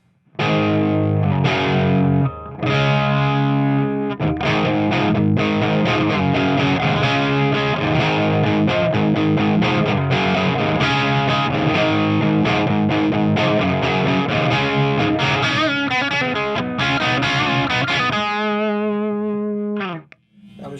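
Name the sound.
electric guitar through Marshall 1959T clone amp, clean channel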